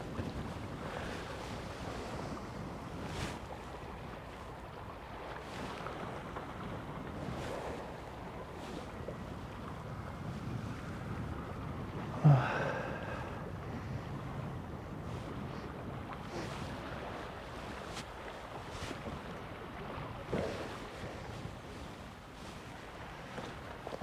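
Strong wind buffets a fishing boat out at sea, a continuous rough rush of microphone wind noise with one louder gust midway and no talking.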